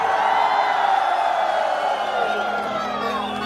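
Crowd at a comedy show during the Khalti Lake Sports Festival cheering, whooping and clapping, a dense, loud, sustained roar of voices filling the whole stretch with no clear gaps.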